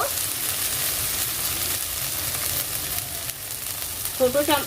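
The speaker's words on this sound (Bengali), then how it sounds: "দেখুন আমার মশলা খুব সুন্দর ফ্রাই হয়ে গেছে এবং মশলা থেকে তেল ছেড়ে দিয়েছে" Masala spices fry in oil for a bhola fish curry, giving a steady close sizzle with light stirring scrapes, and a brief voice rises near the end.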